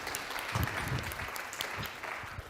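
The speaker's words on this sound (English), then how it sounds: "Applaud for that question, please." Audience at a conference stage talk clapping, a brisk continuous patter of many hands at steady loudness with a few deeper thumps mixed in, no speech over it.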